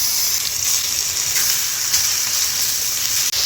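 Marinated chicken fries in oil on a tawa, a steady, bright sizzle and hiss running close and unbroken, with a faint stir or scrape near the end and no voices.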